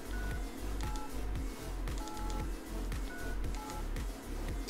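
A tinny Swiss One mobile phone ringtone melody plays loudly over a repeating, pulsing beat, with bright beeping notes and no voices.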